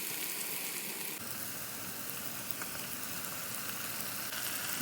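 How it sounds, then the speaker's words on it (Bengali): Onions frying with bay leaves in hot oil give a steady, dense sizzle throughout, close and fairly quiet, with no talk. "দুইটা তেজপাতা দিয়ে আবারও নাড়তে থাকবো যতক্ষণ না পেঁয়াজটা নরম হয়ে আসে"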